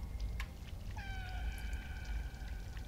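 Cats call out in the video game Stray, a faint drawn-out meow with a short chirp before it, set against a low steady ambient rumble, with no talking.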